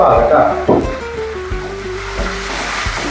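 Onions sauté in a pan for a Kerala-style pepper beef roast, sizzling loudly and close up while a person talks over the frying.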